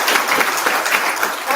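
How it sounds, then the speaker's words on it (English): Close, loud applause from an audience at an entrepreneurship conclave at a women's college in Shillong, dense clapping throughout the short burst. "Please give them a big round of applause."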